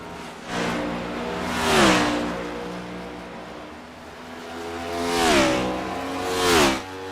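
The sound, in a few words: race cars driving on the Watkins Glen road course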